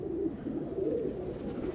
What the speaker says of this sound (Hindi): ये कबूतर है।